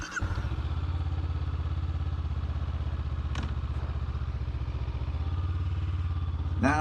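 A motorcycle rides steadily along winding Cotswold country lanes, its engine a loud, continuous mid-pitched drone with an even throb that holds for the whole stretch, with a faint rattle or clatter mixed in.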